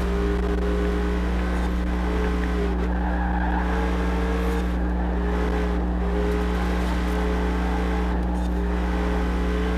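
Race cars in Forza Horizon 5 roar in a steady, loud engine drone with tire squeal and skidding throughout, without any talking.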